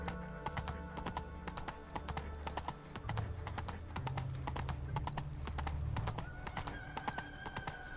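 Horse hooves trot in a steady clip-clop rhythm over a continuous background in The Witcher 3, moderately close and unbroken by speech.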